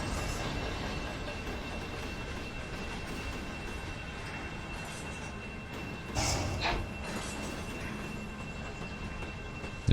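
Slack runs out through a loaded rock train in Run 8 Train Simulator, giving a sudden clanking jolt. A steady rumble of rolling wagons runs underneath, with a sharp bang at the very end.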